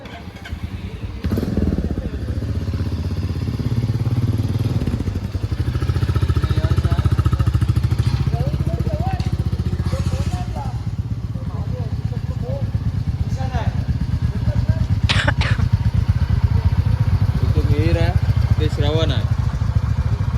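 Motorcycles start off on a group ride from Mumbai toward a village in Ratnagiri, a steady close engine drone running throughout while riders talk over it.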